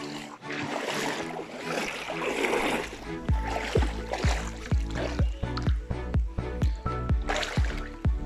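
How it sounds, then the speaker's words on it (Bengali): Water of a forest stream leading toward Ham Ham waterfall in Moulvibazar, Sylhet, Bangladesh, rushing as a steady wash, then giving way to a series of close, rhythmic splashes and drips. "শব্দ পাওয়া যাচ্ছে ঝর্ণার পানির।"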